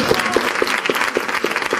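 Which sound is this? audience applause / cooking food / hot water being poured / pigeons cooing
audience applause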